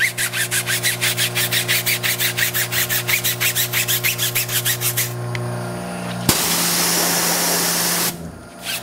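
A Tough Shine tire brush scrubs a car tire in fast, rhythmic strokes, about twenty quick rasping passes, followed by a steady hiss of spray and a brief gap near the end.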